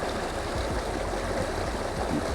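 Water from a stream flows steadily in a landscape setting, a constant close rushing and burbling wash that fills the whole stretch with no voices.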